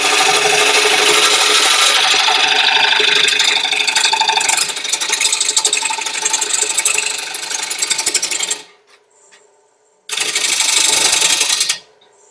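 A wood lathe turns an oblong, football-shaped roughed-out bowl blank at about 750 RPM, giving a loud steady rasping, scraping cut for over eight seconds, a short near-silent pause, then another loud burst of cutting.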